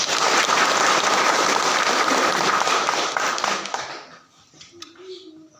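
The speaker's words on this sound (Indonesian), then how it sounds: "untuk kita memberikan tepuk tangan buat Bapak Pendeta." A large church congregation applauds loudly and continuously for the pastor, the clapping thinning out and fading near the end as a voice begins.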